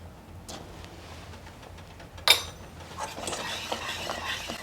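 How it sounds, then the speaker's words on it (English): A spoon stirs lemon meringue pie filling with added butter in a pot over medium-high heat, soft scraping and swishing close by, with a sharp clink of utensil against the pot partway through. "And give that a stir."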